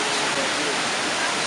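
A waterfall in Majayjay, Laguna roars in a steady, loud, broadband rush that fills the whole moment, with no break in the flow.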